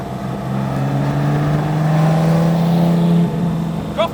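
A 1960s Jaguar XJ13 Le Mans race car accelerates down the straight at Croft circuit. Its engine note rises in a loud, sustained howl, then drops briefly as it shifts, and a short sharper burst closes the run.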